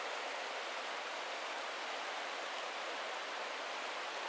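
River rushing down through Johnston Canyon in Banff National Park, a steady, dense hiss of fast-flowing water, close and continuous, with no voices.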